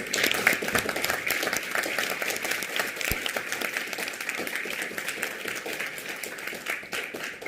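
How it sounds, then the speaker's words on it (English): A conference audience at an economic outlook event in Malaysia applauds steadily, many hands clapping in a dense, even wash that carries on throughout. "Please give a round of applause."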